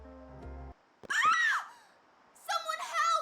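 A scream from Final Fantasy X gameplay, two short, sharp cries separated by a pause, loud and close, following a brief tonal in-game sound.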